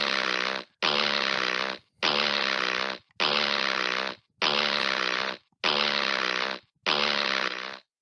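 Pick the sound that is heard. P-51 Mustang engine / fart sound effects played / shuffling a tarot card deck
fart sound effects played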